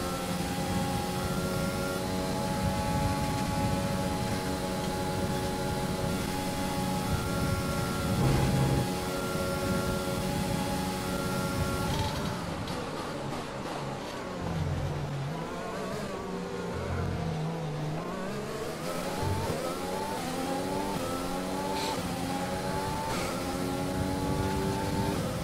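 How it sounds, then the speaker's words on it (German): An F1 car in the racing game F1 2020 at the Belgian circuit, its engine whining at high pitch and climbing through gears as it accelerates, with rising and falling tones from other cars nearby. "Gut, dann gebe ich jetzt mal ein bisschen wieder Gas"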